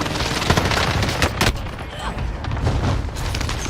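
Airstrike explosions and gunfire in the Call of Duty Warzone video game make dense, loud bursts of blasts and rapid shots that form a continuous barrage, with voice chatter mixed in.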